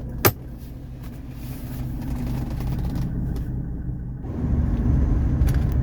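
A 1984 Mercedes 300SD rolls along with a steady low engine rumble and road noise, a sharp click near the start, and the drone growing louder and heavier as it accelerates toward a highway on-ramp.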